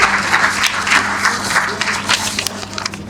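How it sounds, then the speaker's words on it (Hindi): Crowd in an auditorium at an Indian awards conference gives a loud welcoming round of applause, uneven bursts of clapping with crowd noise throughout. "एक बार जोरदार तालियों के साथ उनका स्वागत करें।"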